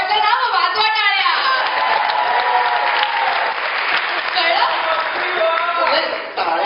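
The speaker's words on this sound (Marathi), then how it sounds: "टाळ्या भरपूर पडल्या" Audience clapping at a Marathi stage comedy show, loud and sustained throughout, with some voices and a child's speech mixed in under the applause.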